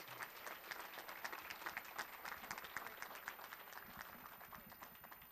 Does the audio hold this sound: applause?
yes